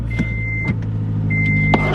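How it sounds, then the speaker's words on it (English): A car's engine running at a steady low idle, with a few short clicks and two thin electronic warning tones on top, no talking. "Car started."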